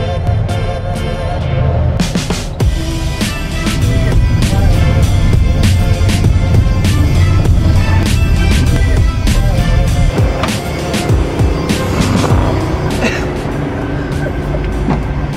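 Car interior on a long highway drive from Florence, Colorado toward Oklahoma City, a loud continuous road rumble with rattles and bumps throughout; no talk.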